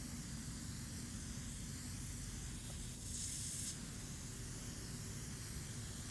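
Liquid fertilizer hisses steadily from a sprayer onto a weak spot of Bermuda lawn, a soft continuous spray against faint outdoor background that briefly brightens near the middle.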